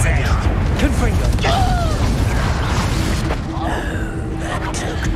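A Confringo spell blasts during hard-difficulty Hogwarts Legacy combat, with booming impacts and mechanical clattering amid a dense, busy mix, while a voice speaks over the action.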